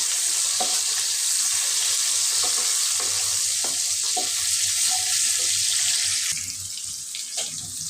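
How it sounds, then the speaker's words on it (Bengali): Onions fry in a pan with a steady loud hiss and sizzle, broken by occasional stirring clinks and scrapes, easing slightly near the end. "এই যে আমি পেঁয়াজটা ভেজে নিচ্ছি"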